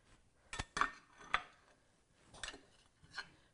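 Spoon scraping and clinking against a dish while roasted carrots and broccoli are stirred with a tablespoon of balsamic vinegar, several separate sharp clinks spaced irregularly, close and fairly quiet.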